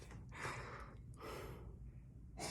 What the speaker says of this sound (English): Sounds like I'm breathing heavy.